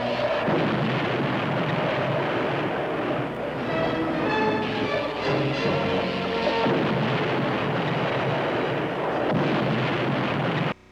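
Cartoon ship firing a laser weapon at a reef: a dense, continuous roaring blast that sustains loudly for about ten seconds, with warbling tonal streaks in the middle, then cuts off abruptly.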